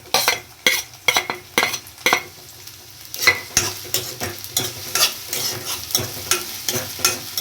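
Onions hit hot oil in a pan for vegetable Maggi, a close, lively sizzle punctuated by a rhythmic run of sharp stirring clacks and scrapes of a spoon against the pan.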